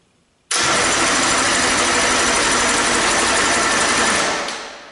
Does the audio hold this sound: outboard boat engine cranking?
yes